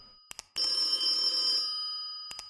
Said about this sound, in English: Perhaps I should answer the phone after all?